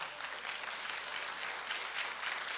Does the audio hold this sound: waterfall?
no